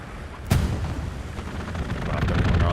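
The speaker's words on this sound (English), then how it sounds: "the rockets are all over tonight" A sharp, loud rocket blast in the World War II shooter Hell Let Loose, followed by rumbling, echoing battlefield fire and distant explosions that build toward the end.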